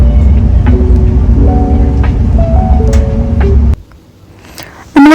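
Interior rumble of a moving train running through outer London, heard from a window seat, a steady low drone with tonal whines until it cuts off near the end.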